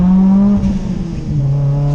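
A widebody Mitsubishi Evo X engine revs loud and close at half throttle, a steady droning note that dips briefly and then climbs again.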